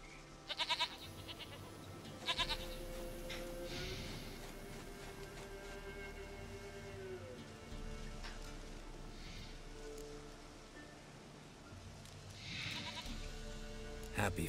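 A goat in the video game Witcher 3 bleats several times at irregular intervals amid soft rain-like game ambience, with faint voices in the background.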